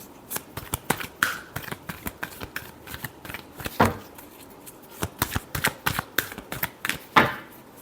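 Tarot cards shuffled close up in a quick, uneven run of crisp riffling snaps and slaps, with brief pauses between bursts and no talking.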